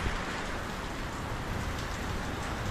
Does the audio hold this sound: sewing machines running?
no